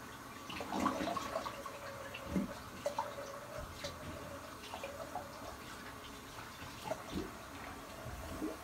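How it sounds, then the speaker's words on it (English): Water runs from a tap as a face is rinsed after a three-pass shave with a safety razor, steady and fairly faint with small splashes and drips, no voices. "I'm just going to rinse and I'll be back."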